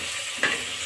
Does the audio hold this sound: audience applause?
no